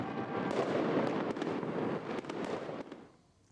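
Fireworks bursting outdoors in a dense volley of sharp cracks and pops over a continuous crackling roar, loud and steady before fading out at the end.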